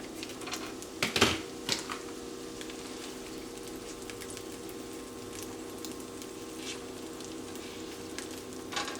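Wild Alaskan pollock sizzles in a hot pan with a steady frying hiss, a few sharp crackles and clatters near the start, then a continuous close sizzle with no talking.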